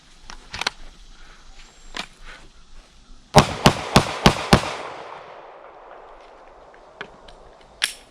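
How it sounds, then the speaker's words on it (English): Close-range 9mm pistol shots fired at soft body armour outdoors: a few scattered cracks, then a rapid string of five loud sharp reports with ringing decay, followed by a couple more isolated shots. "I think I got 5 shots in here for 9mm at close range."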